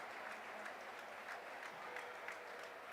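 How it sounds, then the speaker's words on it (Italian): A home crowd at a women's Serie A football match between Okasa Falconara and Pescara applauds an injured player, Erika Ferrara, with steady, fairly distant clapping throughout. "Si prende gli applausi del proprio pubblico, della propria gente."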